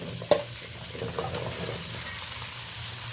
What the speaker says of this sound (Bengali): ভালো করে 2-4 বার নেড়ে নিচ্ছি সব সবজিগুলো